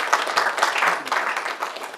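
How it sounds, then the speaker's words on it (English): A crowd applauds, a dense steady patter of many hands clapping at moderate volume, without voices. "A round of applause as we receive our lawyer."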